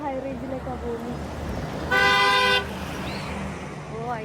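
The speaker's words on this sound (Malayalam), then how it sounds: "ഹോൺ അടിച്ചിട്ട് പോയി" A passing vehicle on a high-range road sounds one short, loud horn blast, heard amid light traffic and someone talking.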